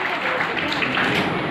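An audience at a school's annual results prize-giving claps for a high-scoring student, a continuous, moderately loud patter of many hands with a faint murmur of voices underneath.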